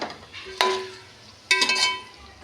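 Ingredients fried in gravy in a pan for dum biryani, with two distinct clinks of a metal spoon against the pan over a soft sizzle, close and alone.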